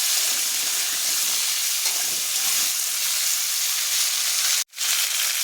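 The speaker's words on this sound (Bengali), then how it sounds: "তেলটা গরম হয়ে গিয়েছে, এবার আমি কেটে রাখা আলু কলা দিয়ে দেবো।" Cut potato and raw green banana frying in hot oil, a steady, loud sizzle and hiss filling the whole stretch, briefly cutting out near the end before resuming.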